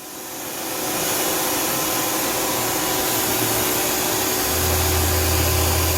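The main spindle of a 2011 Tsugami S206 CNC Swiss lathe spins up to 2,500 RPM, a loud, steady mechanical whir that swells over the first second and then holds constant, with a low hum emerging near the end.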